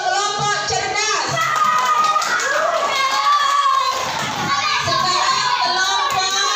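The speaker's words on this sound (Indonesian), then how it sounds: "Kasih tepuk tangan untuk kelompok cerdas." Children applaud in a classroom at an Indonesian Islamic primary school: a dense, steady burst of clapping mixed with lively children's voices, lasting several seconds.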